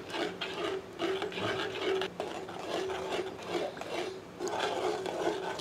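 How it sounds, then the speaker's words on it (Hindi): A ladle scrapes and stirs Afghani chicken gravy vigorously in a pan over high heat, giving a continuous rough rasping with repeated strokes at close range and no talk. "और हम करछी तीव्रता से चला रहे हैं"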